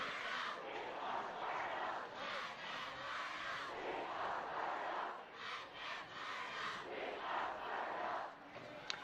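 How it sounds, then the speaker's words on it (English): A homecoming crowd at an Eastlake versus Redmond high school varsity football game at night, a distant roar of many voices swelling and falling in waves for several seconds, steady and far off. "the homecoming crowd here for Eastlake is getting fired up"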